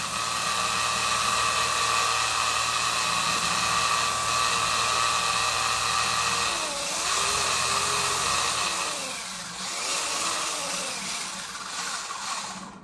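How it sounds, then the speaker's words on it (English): A broken toy helicopter's tail rotor spins with a loud, steady high-pitched motor whir that runs continuously, wavering and shifting slightly in pitch toward the end. "Tail rotor working."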